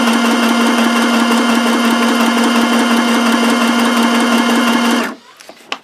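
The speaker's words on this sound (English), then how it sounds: "now I'm going to go to a larger zigzag" A sewing machine stitches a wide zigzag on fabric baby-book pages, a loud steady whirring buzz for about five seconds that stops abruptly, followed by a few faint clicks.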